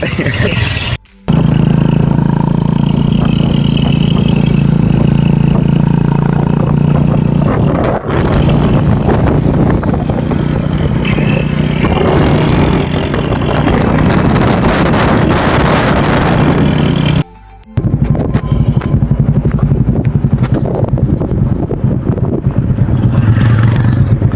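A vehicle engine runs loud and close at a town square crossroads as a friend pulls up, giving a steady heavy rumble with two brief dropouts.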